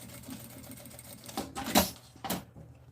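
A sewing machine stitches the ends of a fabric bag strap, a low steady motor whir building into a few short louder bursts of rapid stitching, close by and with no talk.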